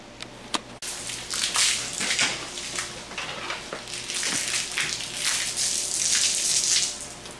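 Water runs and splashes into a container while being collected to mix a fast-setting self-leveling concrete resurfacer for a garage floor, a steady hissing pour that swells and shifts after a few brief knocks at the start.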